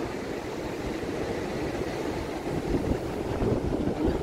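Rough ocean surf at Praia Grande beach in Arraial do Cabo roars as a continuous broadband wash, mixed with wind buffeting the microphone and swelling slightly louder toward the end.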